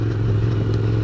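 A Ducati Scrambler Desert Sled motorcycle rides off-road, its engine giving a steady, close, low rumbling drone with faint clatter on top.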